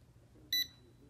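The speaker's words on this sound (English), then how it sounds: "You heard the beep?" A single short, high-pitched electronic beep from an RKA GD91MAX drone controller sounds once, crisp and clear over quiet background.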